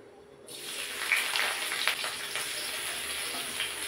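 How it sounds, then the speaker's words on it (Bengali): Onions frying in hot mustard oil in a wok for a Bengali potato and bean bharta: a steady, moderately loud sizzle that starts abruptly and holds without talk. "এবার পেঁয়াজটা একটু ভেজে নেব।"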